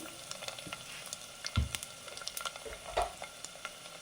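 Broken wheat grits frying in a pan until golden for wheat upma give a faint, steady sizzle, with a couple of quiet scraping stirs and light knocks.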